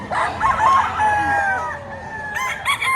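A gamecock stag crows close and loud, giving a long drawn-out call followed by clucking as a second bird answers at the end.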